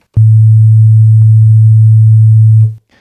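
A steady, pure electronic sine tone from an FM synthesizer with waveform interpolation disabled holds at one low pitch for about two and a half seconds, then cuts off cleanly.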